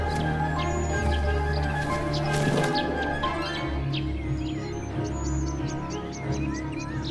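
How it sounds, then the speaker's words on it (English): Sparrows and a nuthatch give short, high chirps and thin repeated calls against a garden background hum. The calls grow busier and more rapid toward the end. "The nuthatch is not willing to share his patch with noisy sparrows."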